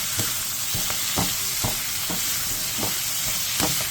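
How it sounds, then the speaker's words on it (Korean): Carrot, onion and minced garlic with salted shrimp brine stir-frying over high heat: a steady loud sizzle with a series of regular scraping stirs, roughly every half second, close up and with no talking. "당근, 양파, 다진 마늘 1스푼, 새우젓 국물 1스푼 반을 넣고 센 불에서 볶아주세요"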